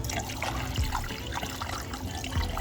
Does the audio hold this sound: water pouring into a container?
yes